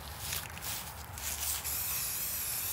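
Rust-Oleum white spray paint hisses in a steady, continuous burst from close by, a broad airy spray with slight surges before settling into an even stream.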